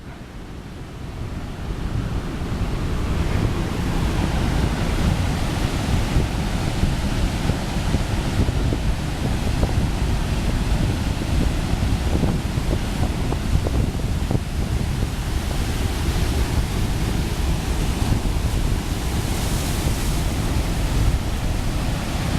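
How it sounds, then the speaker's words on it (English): Ocean surf rolling in across the beach at Tarfaya, a loud continuous roar of breaking waves with wind buffeting the microphone, no voices present. "the surf coming in across the beach there to Tarfaya"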